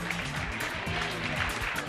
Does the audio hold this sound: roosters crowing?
no